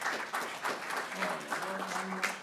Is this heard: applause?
yes